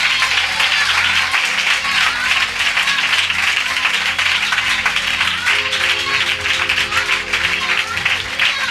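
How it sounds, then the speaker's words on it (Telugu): A church congregation claps loudly and steadily throughout, a dense, continuous wash of hands close by, with sustained musical tones or a held chord running underneath. "చివరి గట్టిగా చప్పట్లు కొట్టండి"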